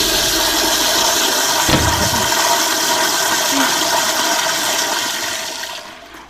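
An automatic toilet in a video game flushes with a loud rushing whoosh of water that holds steady for several seconds before draining away and fading out at the end.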